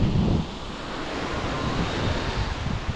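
Steady roar of sea waves and gusting wind at a shore near Sekinchan, with a broad continuous wash of surf and a louder rumble at the start, no voices.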